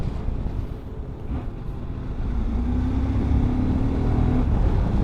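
A QJ SRT 900 SX motorcycle engine on the move, heard as a steady low drone under rushing wind that swells after the first couple of seconds, with a faint rising tone as it pulls.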